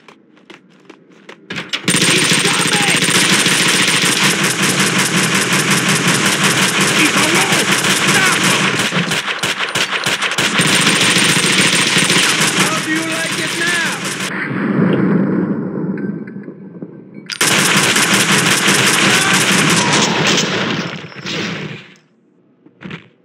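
Sustained, very loud automatic gunfire from wise guys in Max Payne 2 rattles in dense continuous bursts, broken by a short pause and a heavy blast before another long volley that cuts off into quiet.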